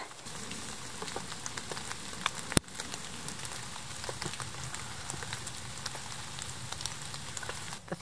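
Rain patters steadily and densely on a camping shelter during a solo overnighter, a close, even hiss of drops with one sharp knock partway through.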